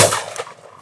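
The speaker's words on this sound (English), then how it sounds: "Shot." A single shotgun shot fired during crow shooting in the field, one sharp loud report at the start that fades quickly into a short tail.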